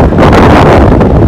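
Strong winter wind buffets a camera microphone at a truck stop on a freezing day near 32 degrees, a loud continuous rumbling roar filling the whole short stretch with no break.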